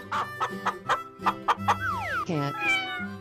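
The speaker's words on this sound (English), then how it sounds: "Chicken." A toy or game chicken gives a run of short, evenly spaced clucks, then a few longer sliding squawks. The sound is clear and close.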